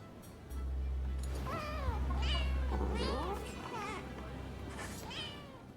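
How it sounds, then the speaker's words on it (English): Rescued cats meow in Rise of the Ronin, a string of several rising and falling calls over a steady low hum, fairly close and clear. "The cats you have rescued are doing very well."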